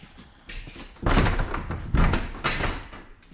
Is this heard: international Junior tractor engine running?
no